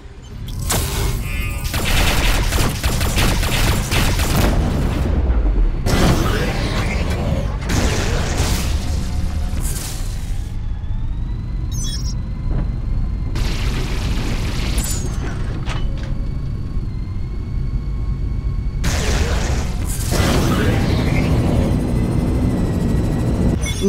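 Bursts of rapid, crackling fire from a spaceship scatter turret in Rebel Galaxy, loud clusters of shots separated by brief lulls filled with whining, humming engine tones.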